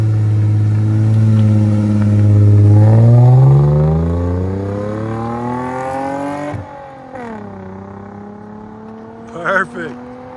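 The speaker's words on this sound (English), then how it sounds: "Lexus with J2 Engineering cat-back exhaust." A Lexus IS 250 with a J2 Engineering cat-back exhaust and six-speed manual revs hard and rises in pitch, cuts off abruptly, then revs again more briefly. The exhaust note is loud and close.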